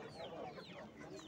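Chickens cluck at a busy poultry market in Nookat, their overlapping calls steady and fairly close throughout, with a murmur of voices behind them.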